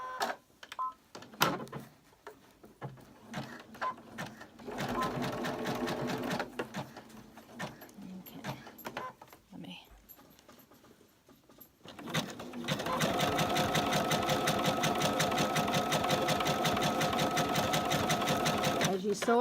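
A sewing machine stitches fabric-wrapped rope into a coiled bowl, running in bursts with pauses, then settling into a steady, loud, continuous whir of rapid stitching near the end.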